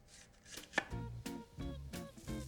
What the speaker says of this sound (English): So I'm cutting thin slices, just a few millimeters thick each slice.